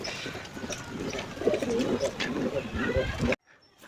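Soft, repeated coos from Sirazi and Lakka pigeons in a pigeon house come from close by, layered over one another, with low voices talking underneath, then everything cuts to near silence at the end.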